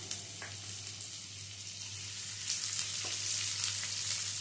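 Chopped onion sizzles in a pan while dal cooks, a soft steady hiss over a low hum, with a couple of faint knocks and the sizzle swelling slightly partway through.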